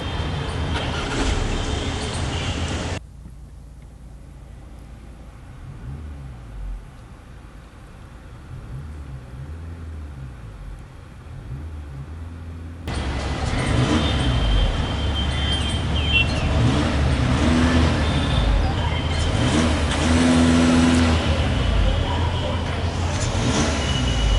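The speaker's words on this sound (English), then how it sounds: "Now let's get an exhaust clip." A 2017 Audi A6 Matrix engine and exhaust hum at a steady idle, drop quieter for several seconds, then return louder with rising revs and a throaty drone.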